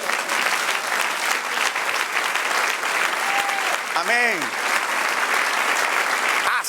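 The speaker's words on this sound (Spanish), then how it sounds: "Denle un aplauso al Señor." A church congregation breaks into loud, continuous applause that fills the sanctuary, with a voice calling out over the clapping partway through.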